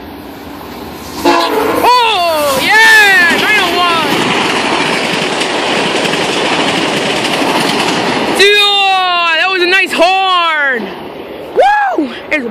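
A VIA Rail train passes a railfanning spot at Danforth, its horn blaring in several loud, close blasts over the steady roar and rumble of the cars, with people talking nearby.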